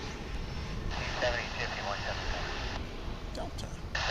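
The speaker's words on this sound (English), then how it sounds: "As we've got another takeoff here." An airplane takes off at DFW airport with a broad roar of jet engines, heard against radio chatter and a voice talking over it.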